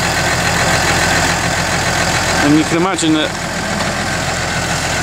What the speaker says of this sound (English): Apparently that tractor there is 155 horsepower.